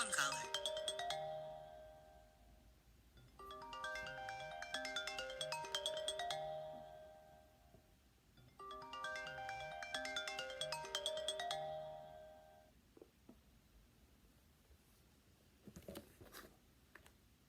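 A phone rings with a melodic ringtone from an unknown caller, three long repeating phrases with short gaps between them, moderately near, followed by faint rustling.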